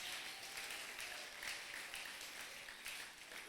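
Audience applause at a theological college graduation ceremony in Bukavu, a dense, steady wash of many hands clapping that holds at an even level throughout, with no voices above it.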